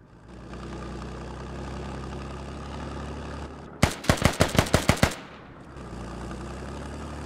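A DShK heavy machine gun fires a quick burst of about seven loud, sharp shots in the Squad video game, cutting through a steady low vehicle engine hum that continues before and after.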